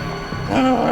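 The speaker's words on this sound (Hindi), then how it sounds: "ये कुत्ता रो रहा है।" A dog cries indoors in a house, giving a brief high whining whimper that rises and then falls, alone and fairly close.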